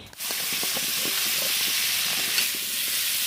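Raw green mango goes into a pan of spiced sautéed potatoes cooked with cumin paste, turmeric and chili powder, setting off a loud, close, steady hiss and sizzle that holds evenly to the end.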